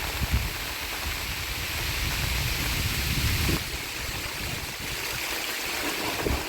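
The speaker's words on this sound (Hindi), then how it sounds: "और तेज़ हवाएं भी चलने लगी" Strong wind gusts through a forest in a sudden storm along the Narmada pilgrimage route, a rough, rumbling buffeting that surges and eases over a steady wash of heavy rain, with no voices.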